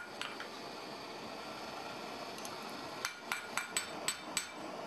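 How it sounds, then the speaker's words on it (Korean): A hammer strikes a knife blade being forged from steel, six sharp metallic blows in quick succession following a stretch of low ambient noise, with no voices. "칼날을 망치로 두들기를 수백 회."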